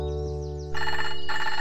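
Cartoon telephone ringing with a bright electronic trill, two bursts of ringing over background music in the animated Bananas in Pyjamas show.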